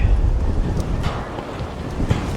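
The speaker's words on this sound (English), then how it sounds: "the wind definitely did not die down" Strong wind blowing across a winter campsite, a loud rumbling buffet that batters the microphone in uneven gusts for a couple of seconds.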